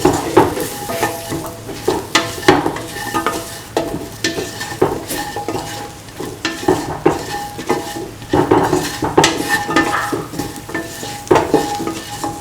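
A potato, mung bean and rice mixture is stirred in a pan, with a utensil scraping and clattering against the metal in steady, repeated strokes over a faint sizzle, close and fairly loud throughout.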